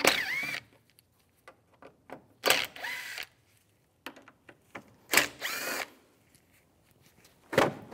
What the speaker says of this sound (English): I'm going to remove these two screws and the two on the top as well. Use the T30 socket.